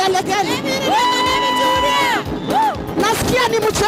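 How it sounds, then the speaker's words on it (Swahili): Church congregation at a live service bursts into loud cheering and high, sustained ululation, whoops and shouts overlapping in a dense, close crowd roar. "Wapi shangwe na vigelegele?"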